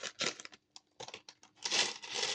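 Small plastic packets torn open by hand while assembling a cat toy kit, bursts of crinkling and ripping in quick uneven pulls, close and fairly quiet, with no talking.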